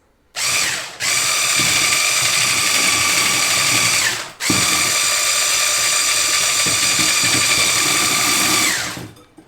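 A loud, steady electric whirring of a food processor, running continuously, briefly stopping and restarting, with no talking.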